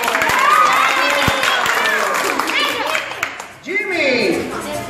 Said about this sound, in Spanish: Aplauso para Chicho.